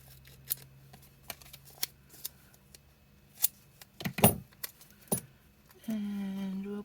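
Scissors snipping a dream catcher picture out of paper for a collage, a scattered series of quiet crisp cuts and paper rustles, ending with a short low hum.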